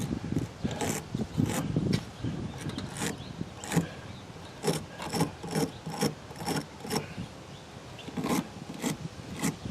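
A hard brush scrubs corrosion out of the rear wiper splines on a 2017 Ford Explorer, making quick, rhythmic rasping strokes up close and fairly quiet, in bursts with short pauses.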